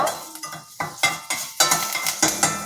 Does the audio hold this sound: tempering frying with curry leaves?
yes